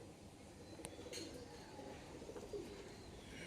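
A pigeon coos softly over a steady low background hum at a home loft, faint and somewhat distant, with a few brief chirps and no clear talking.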